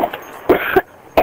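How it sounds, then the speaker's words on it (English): A person coughs while playing a Black Ops 1v1 match on a PlayStation: three short, rough bursts close to the microphone, spaced unevenly over about a second, with quiet game noise between them. "Sorry for my cough. I'm sick."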